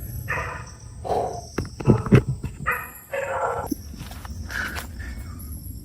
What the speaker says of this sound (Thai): หมาหอนครับดึกแล้วนะ หมาหอนผมนั่งไม่ติดเลย